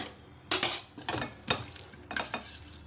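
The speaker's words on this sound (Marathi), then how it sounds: "चला आता तळून घेऊया" Marinated pieces of bombil (Bombay duck) fish go one by one into hot oil, each landing with a sharp hiss and sizzle, three or four bursts that fade between drops.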